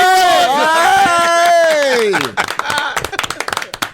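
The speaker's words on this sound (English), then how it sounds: "Hey, listen, can we clap for you?" A studio group claps for a departing guest on a football talk show, a burst of scattered, close hand claps that follows a stretch of talking voices and tapers off.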